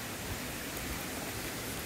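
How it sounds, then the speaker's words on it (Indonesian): Strong wind sweeps across a rural village, a steady broadband roar with no rain mixed in, constant and fairly loud for the whole stretch with no voices. "Tuh anginnya guys"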